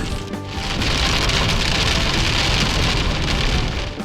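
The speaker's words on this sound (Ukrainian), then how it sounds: "а на вечір майже на фініші пішов дощик" Steady rain pours down across a surface, a dense, even hiss of drops that holds at a constant, fairly loud level throughout.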